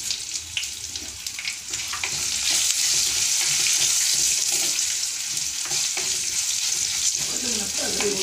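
Crushed garlic, asafoetida and curry leaves tempering in hot oil for tomato pickle, a loud, dense, continuous sizzle and crackle throughout, with occasional stirring.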